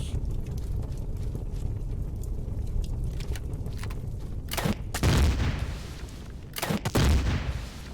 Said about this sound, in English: This had multiple explosions.